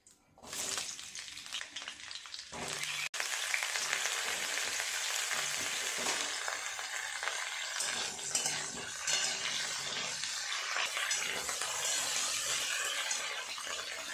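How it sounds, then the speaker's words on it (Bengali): Cauliflower and potatoes frying in a hot wok (kadai) with a spatula stirring and scraping the metal, a steady sizzle with clinks and scrapes running close and continuous. "ফুলকপি আর আলুগুলো আগে ভালো করে ভেজে নেব"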